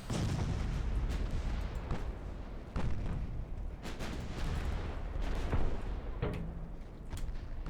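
Torpedo detonations and naval gunfire in the Ultimate Admiral Dreadnoughts warship game, a series of sharp booms and cracking shots at irregular intervals over a rumbling battle background, no talking.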